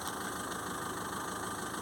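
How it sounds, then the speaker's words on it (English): A diesel car engine idling, a steady close mechanical hum with a faint regular knocking patter underneath, unchanging for the whole stretch with no talk. "If I can start the car, I might have to hit the clutch. No, I didn't. It started."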